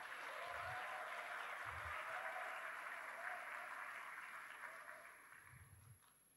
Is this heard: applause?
yes